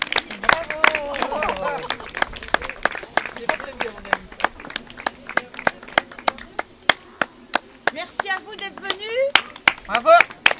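Spectators at an outdoor heritage-day performance by a theatre troupe clap in sharp, uneven bursts, the loud individual claps mixing with voices and chatter from the crowd.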